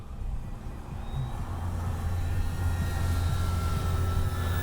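A Durafly Rare Bear RC model plane passes low overhead, its electric motor a steady rising whine over a low rumble that swells and holds loud toward the end, with no talk.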